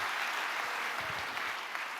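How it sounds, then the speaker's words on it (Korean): A church congregation applauds during a sermon, a dense, even wash of clapping filling the hall, moderately loud and steady throughout. "박수 한번 주세요."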